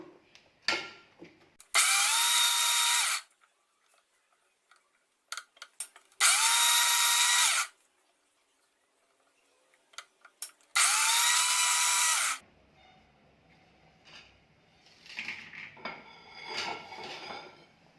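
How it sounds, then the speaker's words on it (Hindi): A kitchen grinder whirs loudly in three separate bursts while grinding desiccated coconut into a fine powder, with quiet clicks and handling noises between bursts and a softer rattle at the end. "इसको खोल के स्टर करेंगे और फिर थोड़ा ग्राइंड करेंगे और इसे तब तक ऐसे ही करते रहना है जब तक ये फाइन ग्राइंड ना हो जाए।"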